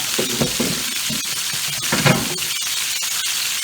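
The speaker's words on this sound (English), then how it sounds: "I'm just going to saute these until they just translucent." Onions sizzle loudly and steadily in a pan, with a dense hiss punctuated by quick stirring scrapes and a small burst of louder spitting midway through.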